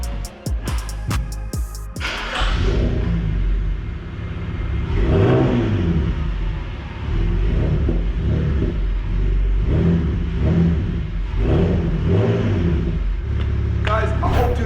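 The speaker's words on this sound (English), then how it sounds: "let me do you a cold start." BMW E92 325i M Sport engine after a cold start, a loud steady idle with repeated blips of revving rising and falling, close up; a voice is heard briefly at the start.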